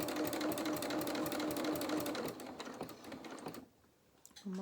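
A sewing machine stitches a seam on dungarees fabric, running loud and steady for a few seconds, then stopping briefly before a short burst of needle clatter resumes.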